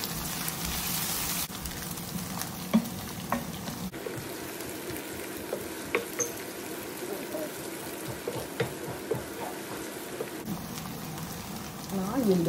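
Hot cooking oil sizzles steadily in a pot for Vietnamese bún bò Huế, a continuous crackling hiss with scattered pops and occasional clinks.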